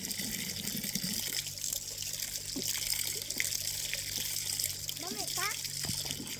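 Water from a natural spring runs and trickles steadily close by, with soft splashing throughout and a few bird calls and faint voices in the background.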